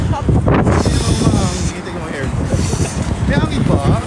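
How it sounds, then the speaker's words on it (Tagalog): Strong cold wind buffets the microphone at night outdoors in South Korea during a cold wave near -1 degrees, a loud, constant roar that rumbles and gusts throughout. "Lakas ng hangin, my God."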